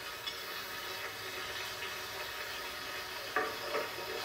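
Celery, onion and carrot cook in a pan with a soft steady sizzle, faint and continuous, with one brief clink of a utensil near the end.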